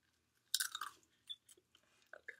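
Crisp crunching bites and chewing on homemade microwave potato chips, close and quiet, with a sharp first bite followed by a few smaller crunches and pauses.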